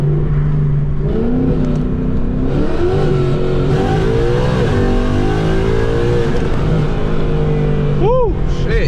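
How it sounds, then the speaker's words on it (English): A Ford Mustang GT fitted with Texas Speed longtube headers revs hard, its exhaust note rising and falling through several loud, close pulls with a deep rumble underneath. "let's go ahead and see what the exhaust sound like right now."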